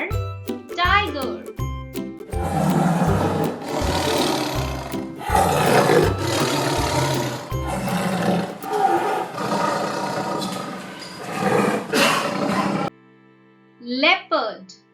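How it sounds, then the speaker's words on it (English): A tiger roaring in a string of loud, rumbling roars with a jingling sound mixed in, ending in near silence with a brief high voice. "T-I-G-E-R. Tiger."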